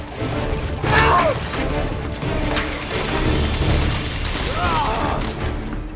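Gunfire and mechanical clatter from a Halo 5: Guardians firefight play in a dense, busy mix with bursts and impacts around the one- and five-second marks, and a voice talks over part of it.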